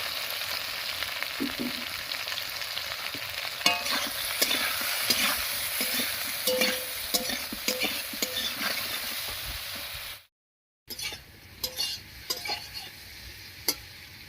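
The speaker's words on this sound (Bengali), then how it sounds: "বেগুনগুলো ভাজা হতে থাক" Eggplant frying in hot oil gives a continuous crackling sizzle with scattered pops and spatters, briefly cutting out before the sizzling resumes.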